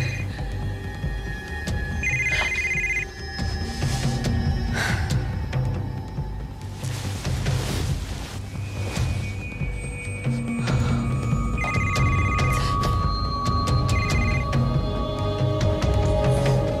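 A mobile phone rings with a synthetic, stepping electronic melody that repeats over about seventeen seconds, fairly loud and clear, with no talking.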